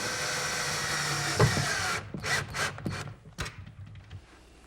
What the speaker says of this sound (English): The brackets get attached to the carcass with some screws, driven from the inside.